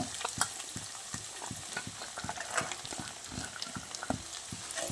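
Carrots stir-frying with chilli powder and pepper powder for paneer fried rice, a steady close sizzle broken by frequent sharp scrapes and clacks of a spatula stirring against the pan, with no talking.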